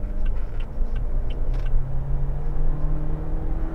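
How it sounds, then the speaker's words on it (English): GWM Tank 300 SUV engine accelerating from inside the cabin, a steady low rumble with a rising whir and faint ticking, continuous and fairly loud. "But yes, the engine, as I said, yeah, let me accelerate."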